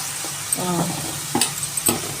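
Egg dry curry frying in a pan, with a soft hiss under a few sharp spatula clinks and brief scraping strokes over about two seconds.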